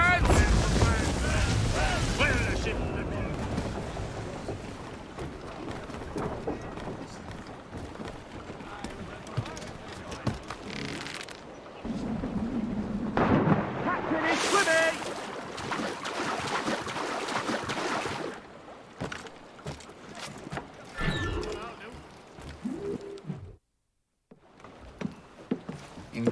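Sailing ship under full sail at sea in Assassin's Creed Rogue, a steady broad rush of wind and water running throughout, with people talking over it and a brief dropout near the end.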